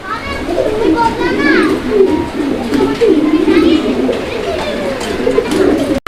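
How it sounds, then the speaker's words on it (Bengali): Pigeons at a pigeon market coo repeatedly in soft, rolling phrases, close by, with children's voices chattering in the background. "দেখেন কবুতর"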